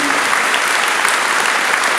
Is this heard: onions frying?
no